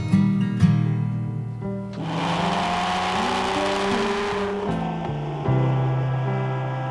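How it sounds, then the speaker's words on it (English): A Porsche Boxster on a shakedown drive, its engine droning steadily with shifting pitch as it accelerates and changes gear, loud and close with road and wind noise. "Out here giving the car a proper shakedown to see how everything feels"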